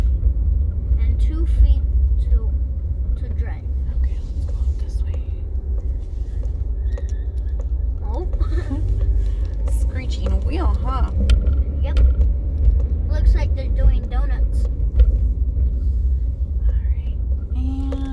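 Steady low road rumble from inside a car on the move, a constant engine and tire drone beneath people chatting in the cabin.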